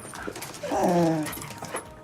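A dog in a Midsomer Murders TV scene whimpers and whines, a drawn-out tonal cry rising and falling over a couple of seconds, close and fairly loud, with faint background sound from the show.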